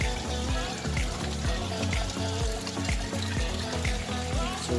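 Water runs and splashes continuously during a water change in a koi quarantine tank, a loud, steady, rushing flow with a rhythmic gurgling pulse and no voices.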